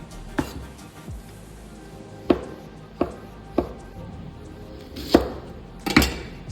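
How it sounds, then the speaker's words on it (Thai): Knife chops through ingredients for Korean glass noodles on a cutting board, about seven sharp, irregularly spaced thuds, close and clear over faint background noise. "หั่นทุกอย่างให้ไซส์เท่าๆกัน"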